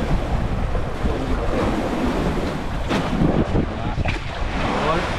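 Large sea waves surge around a fishing boat out in the West Philippine Sea, with heavy continuous water rush, wind buffeting the microphone and a few louder splashes as the hull rides the swell.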